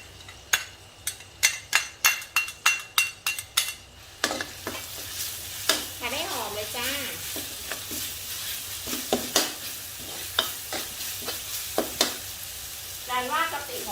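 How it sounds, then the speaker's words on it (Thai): Chili and garlic hit a little oil in a pan for pork ribs with shrimp paste; a run of sharp rhythmic chopping or tapping gives way to steady sizzling, with a spatula scraping and clinking against the pan up close. "หลังจากนั้นก็เอาตัว พริกกับกระเทียมนะคะ ลงไปผัดเลยค่ะ"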